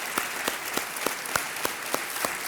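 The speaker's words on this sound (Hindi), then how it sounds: "तालियों के साथ इनका अभिनंदन।" A studio audience on the KBC game show, Season 8, applauds steadily for about two and a half seconds, with sharp claps sounding through a dense, even wash of clapping.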